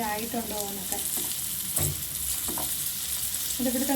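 Prawns sizzle in a hot frying pan, a bright, continuous crackling hiss with a few scraping stirs, while faint tonal sounds drift in at the start and end.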